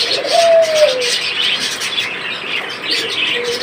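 A pair of pet pigeons kept with their chick give soft, repeated cooing calls close by, with a few faint chirps mixed in and no talking.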